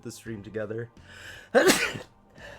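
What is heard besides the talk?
sneeze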